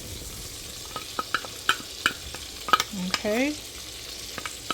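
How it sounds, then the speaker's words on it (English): Garlic sizzles softly in melting butter in a pan while a spoon scrapes and clicks against the pan; a voice speaks briefly. "as the butter is melting, we're going to add in our garlic"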